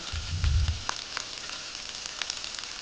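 Food frying in a pan with a steady, quiet sizzle and crackle, a brief low stir or clatter near the start, then scattered small pops over continuous hiss, no voices.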